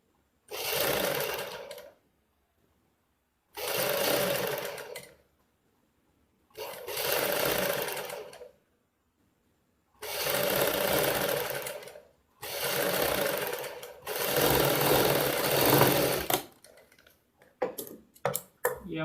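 Domestic sewing machine stitching a Punjabi suit, running in six bursts of steady rapid whirring, each a second or two long and separated by short pauses, close and loud with no talk.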